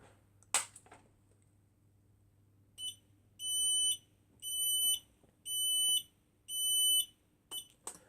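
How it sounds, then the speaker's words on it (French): A Finsécur Celtic-BAAS-Pr8 fire alarm panel sounds its general evacuation signal, a loud, shrill electronic tone in four long, evenly spaced blasts with shorter beeps before and after, preceded by a sharp click. "je vous montre comment ça passe le déclenchement d'alarme feu avec évacuation générale"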